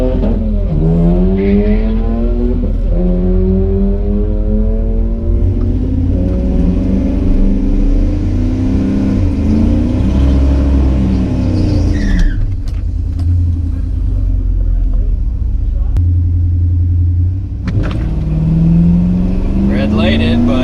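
A Dodge Dakota R/T pickup fitted with a Mopar M1 intake makes a drag strip pass, its engine loudly revving and climbing through the gears close by, with voices heard alongside.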